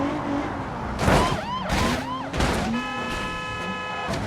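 Toyota Camry 3.5 driven at full throttle, engine roaring in loud surges with rising revs between gear changes, close and forceful throughout.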